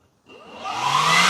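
A handheld blower spins up from silence, its airy whoosh rising steadily in pitch and loudness over about a second, close by with no talking.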